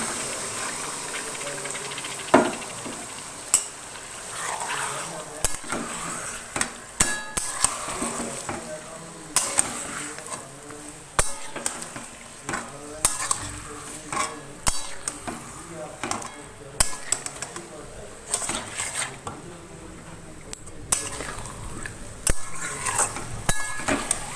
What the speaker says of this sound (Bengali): এবার আমি এতে এই মাংসটা যেটা ম্যারিনেট করে রেখেছিলাম 6 ঘন্টা ফ্রিজের মধ্যে, সেটা এবার দিয়ে দেবো